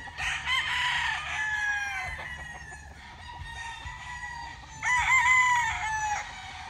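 Roosters on a rooster farm with a fishpond crow loudly and repeatedly, with overlapping calls near and a little farther off, and clucking fowl in between.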